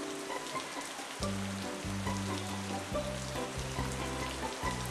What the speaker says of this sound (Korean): 진짜 이렇게 비가 내리고 막 이제 마을길에 거의 이제 내가 돼서 흐르고 있는데